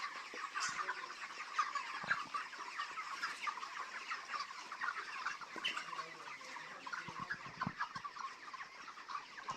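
Thirty-day-old broiler chickens on a poultry farm in Bangladesh cluck and chatter in a dense, continuous flock chorus, with scattered thumps and rustles nearby and no talking.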